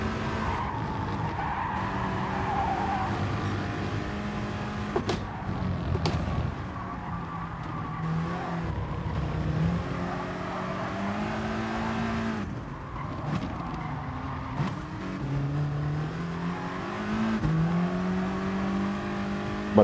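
A race car in Gran Turismo Sport cornering over a curb: a continuous engine drone shifting in pitch as it brakes and accelerates, with tire squeal and brief bumps from the curb.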